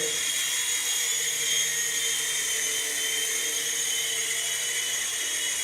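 A small Jun Quan Thunderbird 3CH infrared RC helicopter flying indoors, its rotor and motor giving a steady, high, buzzing whine that holds constant and close with no talk.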